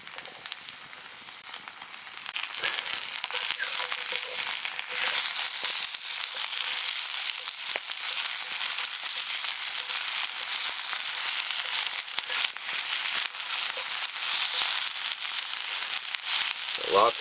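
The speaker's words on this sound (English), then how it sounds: "Gotta love the sizzle though," Garlic, onions and potato sizzle in a pan at an overnight woodland campsite, a steady, dense frying crackle that holds at an even level throughout with no talk.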